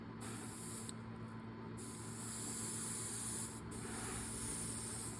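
Leather dye sprayed onto the toe of an Allen Edmonds McAllister shoe in walnut, two hissing airbrush bursts with short pauses over a steady low compressor hum, close and fairly quiet.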